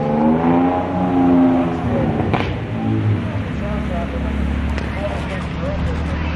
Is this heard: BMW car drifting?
yes